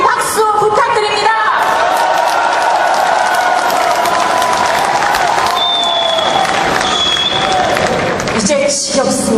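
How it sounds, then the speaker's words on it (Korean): A political rally crowd gives long, loud applause mixed with cheers and whoops. Voices carry over the clapping throughout. "우리 힘찬 박수 부탁드립니다"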